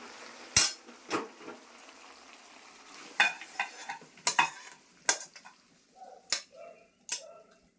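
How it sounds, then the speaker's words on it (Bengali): A spoon scrapes and clinks against a wok while a vegetarian vegetable curry is stirred, giving sharp irregular metallic knocks over a soft, low sizzle. "এটা এখন নেড়ে চেড়ে একটু ঢেকে দিলাম"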